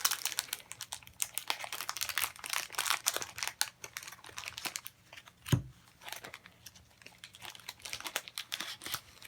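Wrapped game cards of Tiny Epic Dinosaurs being opened: close, quiet crinkling and crackling of plastic wrap with light tapping and tearing, one sharper thud midway, no speech.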